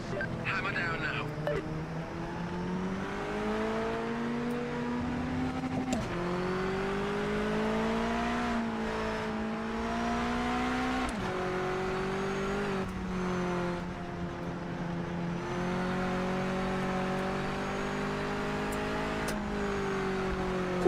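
Race car engine in Project Motor Racing held near full throttle, a loud sustained drone whose pitch climbs and drops with gear changes, continuous and close throughout, with someone talking over it.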